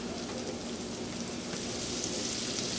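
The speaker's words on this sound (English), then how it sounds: "Now I'm going to saute the diced onion." Diced onion sautéing in reserved bacon grease with leftover crispy bits, a close, steady sizzle with faint stirring scrapes throughout.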